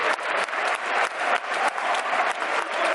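Football fans in the main stand at Gresty Road applauding their team's players at close range, a dense, loud, sustained clapping with a continuous crowd roar beneath it.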